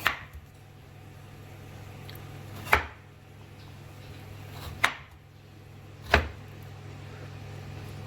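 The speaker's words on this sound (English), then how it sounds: "I'm gonna cut the carrots into cubes." Carrots being cut into cubes with a knife on a board: four sharp, isolated chops spaced a couple of seconds apart, close and crisp over a low steady hum.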